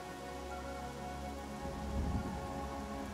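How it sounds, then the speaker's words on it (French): Steady rain falls in the fantasy role-playing game Pathfinder: Kingmaker, a constant hiss of drops on surfaces with a low rumble swelling briefly midway, no voices over it. "En plus, il pleut."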